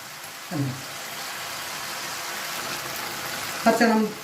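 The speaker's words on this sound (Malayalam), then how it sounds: "നന്നായി ചൂടായി അതിലേക്ക് ഇഞ്ചി വെളുത്തുള്ളി പച്ചമണം പോണ വരെ ഒന്ന്" Ginger and garlic sauté in a hot pan, giving a soft, steady sizzle throughout with two brief louder bursts of stirring or frying near the start and end.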